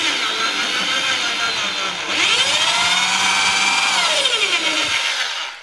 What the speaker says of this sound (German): Geht mit dieser Zentrierspitze in die Mitte des Kreuzes und stecht einmal rein.